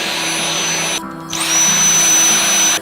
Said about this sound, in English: I'm gonna go kind of vacuum that off before I put the new one